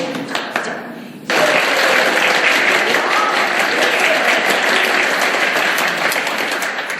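Audience clapping at a recreation session breaks out suddenly and loudly after a brief quieter moment, a dense sustained round of applause from a close crowd.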